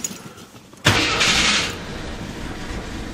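An AMC Eagle engine cranks and fires up abruptly, catching with a loud burst of revving before settling into a steady rough idle nearby.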